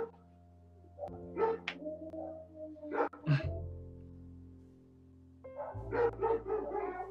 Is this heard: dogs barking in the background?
yes